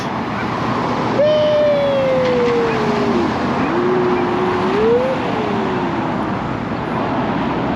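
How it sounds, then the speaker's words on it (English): Road traffic at a busy intersection on Route 75 gives a steady broadband rush of passing cars, with a siren sweeping up and down in the distance over the constant hum. "And there's all the cars."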